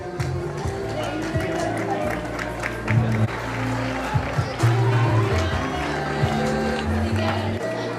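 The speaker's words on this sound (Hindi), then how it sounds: "विद्यार्थी तालियां बजाने में ध्यान दें, बातें करने में नहीं।" Students applaud at a school alumni meet, a steady patter of crowd clapping carrying on under someone speaking over a loudspeaker, with a hum of chatter throughout.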